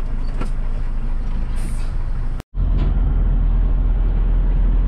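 A dump truck pulling a tipper semi-trailer sets off with a heavy diesel rumble and a hiss of air brakes releasing, then a brief cutout before the engine drones on louder and close.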